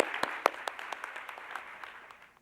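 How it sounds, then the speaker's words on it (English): An audience at a lecture series event claps for students, a brief scattering of hand claps with a few sharp, distinct claps standing out before the sound thins and dies away. "a round of applause for the students"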